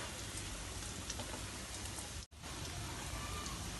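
Breaded mutton parcha fries in hot oil with a dense, even sizzle, steady and close, broken only by one brief dropout.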